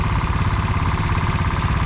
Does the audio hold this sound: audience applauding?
no